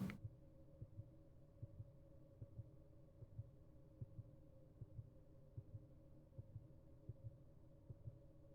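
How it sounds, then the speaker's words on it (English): A steady, slow heartbeat throbs in the video game Sucker for Love, as soft, even thumps over a low constant hum, faint and alone. "We can hear that heartbeat"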